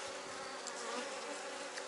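Honeybees crowd around a queen as she emerges from her queen cell inside a hive, producing a close, steady, continuous buzzing drone with no voices.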